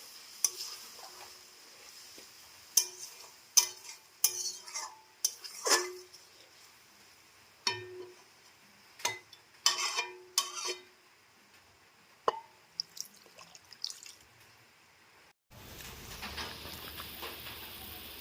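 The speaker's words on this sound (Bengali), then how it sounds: "এর মধ্যে জলটা দিয়ে দেবো গরম জল" Hot water goes into spices in a pan while cooking Bengali katla fish curry, heard as sparse sizzles, splashes and stirring clatter, fairly quiet, ending in a steadier bubbling hiss.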